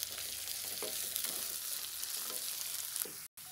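Ginger garlic paste sautés in a pan for kakka roast, a steady close hiss of frying with a few soft stirring scrapes and a brief break near the end.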